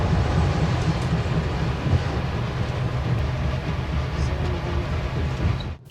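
Sunlander passenger train in Queensland gathering speed, with a steady, loud low rumble and rolling wheel noise heard from inside that continues evenly throughout, with no voices.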